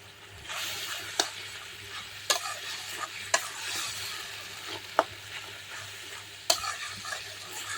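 Meat being stir-fried in a pan, a steady close sizzle punctuated by sharp periodic scrapes and knocks of a spatula every second or so, with no talking.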